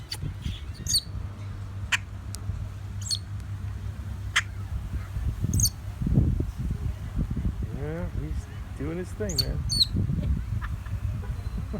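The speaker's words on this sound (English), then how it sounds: "a loud bird at Cancun on the Lobster Beach" A loud bird calls at close range on Lobster Beach in Cancun, repeated sharp squawks and chirps in bursts, while someone talks quietly nearby.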